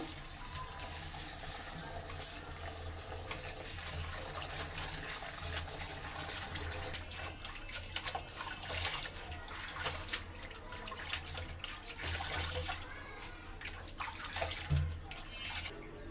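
Steady running water splashes and gushes for the whole stretch, with occasional sloshing and handling noises as leafy greens are rinsed under the flow.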